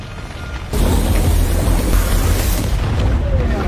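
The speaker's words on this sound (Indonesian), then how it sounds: "sontak tubuh Newt pun meledak." A body bursting apart in a film scene sets off a sudden loud, rumbling boom that hits after a brief lull and sustains as a heavy roar for several seconds.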